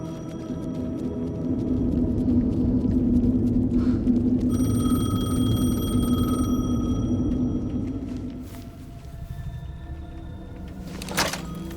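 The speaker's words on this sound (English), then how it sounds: "The payphone was ringing." Payphone ringing in the video game Alan Wake 2, a steady electronic ring tone over a low droning ambience, with a brief mechanical clatter near the end.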